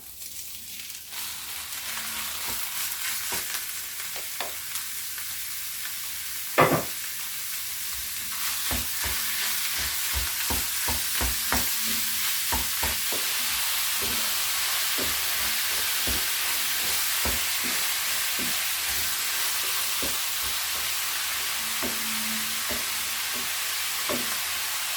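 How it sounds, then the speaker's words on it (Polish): Minced meat sizzling steadily in a hot pan, with a loud clank early on and repeated scraping stirs throughout. "smażymy tak przez chwilę."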